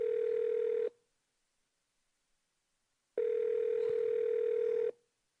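A telephone line gives a steady continuous tone, heard loud and close in two long stretches split by a gap of silence, with no talking.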